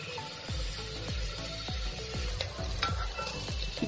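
Bitter gourd gravy base browning in oil in a pan, stirred with repeated scrapes roughly every half second over a steady close sizzle, with no talking.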